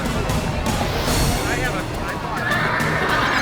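Horses neigh and whinny shrilly while duelling, with loud crowd chatter and someone talking over the scuffle throughout.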